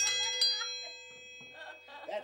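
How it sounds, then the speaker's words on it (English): An old-time dinner bell in a hand-made country home rings with bright metallic strikes at the start, then fades as people begin talking. "this is an old-time dinner bell"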